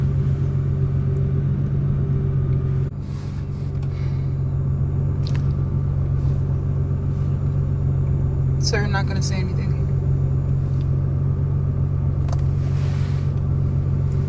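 Steady low rumble inside a moving car, constant engine and road drone throughout, with a voice talking briefly over it and a few faint knocks and rustles.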